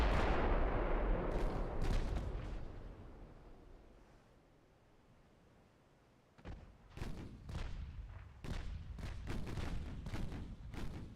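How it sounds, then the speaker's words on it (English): Naval guns fire in the Ultimate Admiral Dreadnoughts battle, playing a German fleet: a heavy boom opens, decays into a rumbling tail, then a rapid series of loud broadside blasts follows in close succession with no talk. "Fire the guns."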